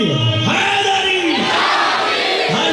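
A large gathering at a Muharram religious sermon roars a chanted slogan together in reply, a loud, sustained wall of many voices with swelling and falling pitch, close and continuous.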